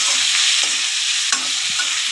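Potatoes fry with chopped tomato in a pan while a utensil stirs, giving a loud, continuous sizzle with a few scraping strokes close by.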